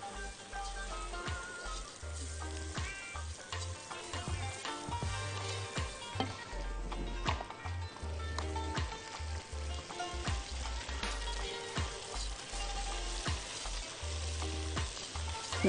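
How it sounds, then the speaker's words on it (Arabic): Rice being stirred into fried onions in a pan for mujaddara: a continuous close sizzle broken by repeated scraping stirs and clicks of the utensil against the pan, with low thuds throughout. "ندي الرز تقليبه مع البصل"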